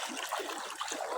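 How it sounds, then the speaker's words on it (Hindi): Fast floodwater rushes past during a deep-water crossing, a steady loud broadband wash of churning, trickling flow with no break and no voices. "पानी का बहाव बहुत तेज़ है"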